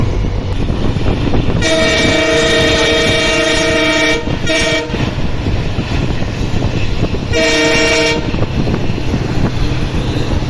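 Passenger special train 06920 runs loud and steady on the Bagalkot to Hubballi line, with continuous rumble and wheel noise broken by two long blasts of the horn.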